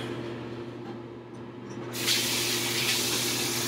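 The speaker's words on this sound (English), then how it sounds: "You always want to make sure that you're using hot water, turning on and off your faucet." Hot water runs from a bathroom faucet during beard shaving, a steady close hiss of flow that grows louder and brighter about halfway through as the tap opens further, with no talking.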